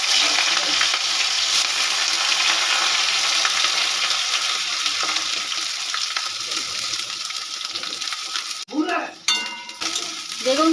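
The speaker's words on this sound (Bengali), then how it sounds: "ওই তেলে আমি বেগুনগুলো ভেজে নেব।" Cut brinjal pieces sizzle steadily in hot oil, a continuous close frying hiss with light stirring, then a brief clatter and a louder burst of spattering near the end.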